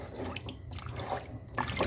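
Meat and water being stirred in a cooking pot for pepper soup, producing soft wet sloshing and dripping sounds with a few brighter splashes, fairly quiet and without speech.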